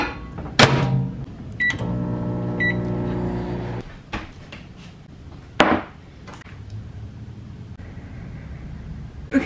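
A kitchen microwave heats a plate of beans and rice with a steady low hum. A few short beeps sound, and sharp clunks and knocks from the door and handling come before and after, close by and without speech.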